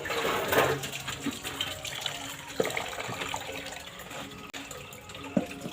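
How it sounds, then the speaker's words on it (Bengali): Water poured from a container into a wok to steam caramel pudding, a moderate splashing pour with a few clinks of cookware, fairly close. "কড়াটা বসিয়ে দিলাম কড়ার মধ্যে দিয়ে দেবো জল"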